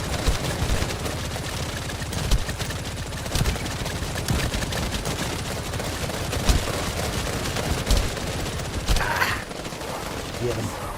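Sustained automatic gunfire from The First Descendant video game, a dense rapid stream of shots with occasional louder bursts and an explosion-like flare near the end, steady and close throughout.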